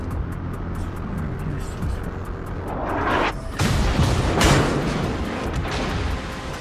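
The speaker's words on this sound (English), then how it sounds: "And the Congo's returning fire." Battleship Kongo returning gunfire in World of Warships, a steady engine rumble with broadband blasts building around the middle and a heavy, sustained roar of naval gunfire near the end.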